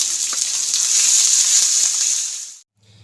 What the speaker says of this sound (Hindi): मैं इसे डाल देती हूँ और इसे गोल्डन होने तक फ्राई कर लेती हूँ।